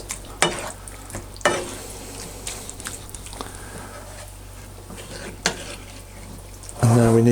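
A spoon stirs beef chili in a pot, smushing the tomatoes with scattered scraping knocks against the pot under a low background hum. A louder clatter comes near the end.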